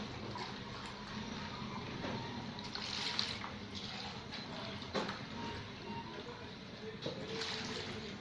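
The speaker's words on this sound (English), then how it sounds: "Then you add 2 to 3 liters of water into the basin from the previous 20 liters." Water is poured from a container into a basin while making homemade liquid soap, a faint, continuous splashing and trickling with a few louder sloshes, set against quiet background noise.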